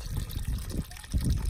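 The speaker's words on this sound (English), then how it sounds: "Something that's new is this little waterfall, and it's got a pretty deep hole." A small waterfall pours into a deep hole at the Crater of Diamonds, giving a close, steady splashing rush with low gurgling surges.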